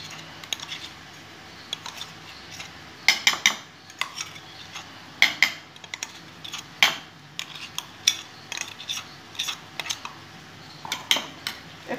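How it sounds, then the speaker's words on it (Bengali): Spice paste of ginger, garlic, green chilli and poppy seed being stirred into yogurt with a spoon in a bowl, giving repeated light metallic clinks and scrapes at an irregular rhythm, close and fairly quiet. "এটা আমি দইয়ের মধ্যে মিশিয়ে দেবো।"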